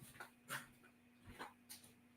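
A small dog whimpers faintly in short soft whines while being picked up, with rustling and low background hiss.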